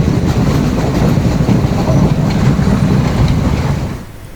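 A train rolls along a coastal railway line near Galle in Sri Lanka, a loud continuous rumble with rhythmic wheel clatter that eases slightly at the end.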